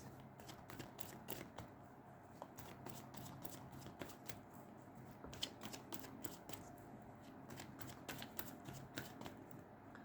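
A deck of tarot cards is shuffled close up, producing quiet, rapid riffling and flicking clicks that continue steadily throughout with no voices.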